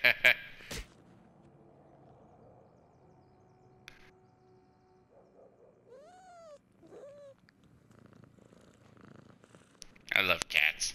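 Cats in the video game South Park: The Fractured but Whole give a couple of short rising meows over a quiet low purr-like hum, with sharper noises at the start and end.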